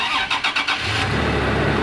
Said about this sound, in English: so I got to warm the truck up first